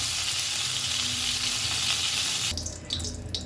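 Pointed gourd pieces fry in hot oil with a continuous, close, hissing sizzle that thins out near the end as they are lifted from the pan, giving way to a few clinks and softer bubbling.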